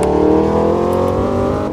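A 2012 Chevy Camaro ZL1 accelerating hard, its loud engine note rising steadily in pitch across a short, continuous run with no talk over it.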